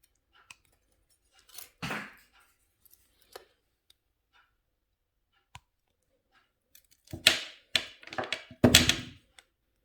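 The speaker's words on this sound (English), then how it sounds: "And we're going to cut that wire at both ends." Jewelry wire for lightweight earrings is snipped at both ends with a cutter, giving sparse sharp clicks and snaps, a few isolated near the start and a denser cluster toward the end, close and crisp in an otherwise quiet room.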